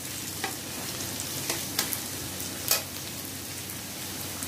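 Onions sizzling in a pan while being fried for chhole, a steady hiss of frying oil with a few sharp clicks and stirring scrapes, fairly close and without any talking.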